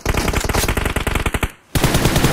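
Loud automatic gunfire in a mobile shooter game on an iPhone 15 Pro rattles out in rapid, sustained bursts, stops for a brief silence, then resumes.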